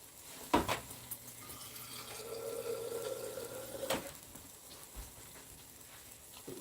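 Water runs from a tap in a short, faint stream lasting a second or two, framed by soft clicks and handling noises, with no voices.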